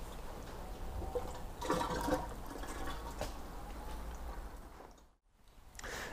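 Motor oil trickles steadily from the sump of a VW Up! GTI into a drain pan, a continuous close watery pour with a brief splashy burst midway and a short dip near the end.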